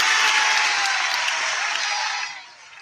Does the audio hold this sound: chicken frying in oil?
no